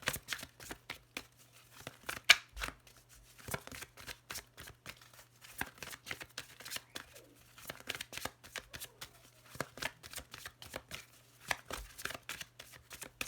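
Tarot cards are shuffled and cut close by in a quiet room, with a long run of crisp, irregular riffles and slaps over a faint steady hum.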